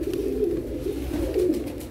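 Paired pigeons, with young chicks in the loft, coo in the early morning, low rolling calls repeating steadily and close, several birds overlapping with no talk.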